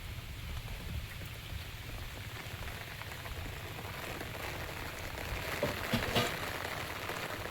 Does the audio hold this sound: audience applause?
no